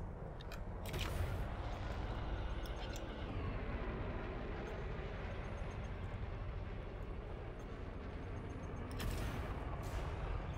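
Rapid spaceship cannon fire in the video game Elite: Dangerous roars without a break, a dense rumbling barrage with sharper bursts near the start and end and no one speaking.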